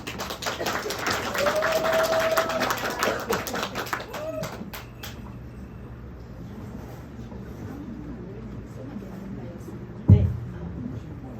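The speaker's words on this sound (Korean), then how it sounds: "큰 박수로 환영합니다" Audience clapping welcoming a professor to present at an academic society meeting in Korea; fairly loud applause for about four seconds, then fading to a quiet room with faint murmuring and a single sharp knock near the end.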